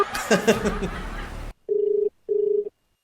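A phone call rings out unanswered: a short burst of laughter and chatter cuts off, then two evenly spaced electronic ringback tones follow in silence.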